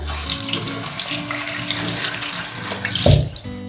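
Tap water runs steadily into a sink to wet makeup brushes, a close, even splashing stream that swells briefly near the end before cutting off.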